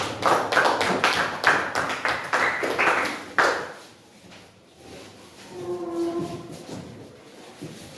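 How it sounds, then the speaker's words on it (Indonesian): A room full of people claps in applause for a final group of presenters, a dense burst of hand claps for about three and a half seconds that then dies away to quieter room noise. "silakan berikan tepuk tangan untuk kelompok yang terakhir"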